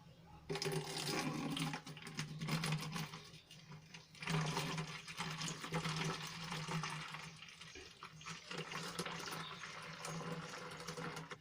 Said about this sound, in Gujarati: તો આને હું હવે બોટલમાં ભરી લઈશ